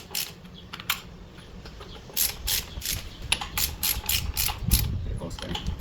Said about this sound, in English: this carrier here, I'm going to tighten down to 100 inch-pounds